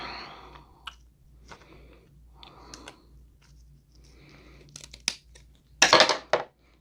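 Crab legs from a seafood boil being cut open, with scattered snips, cracks and crinkling shell sounds, quiet at first and building to a louder cluster of crunches near the end.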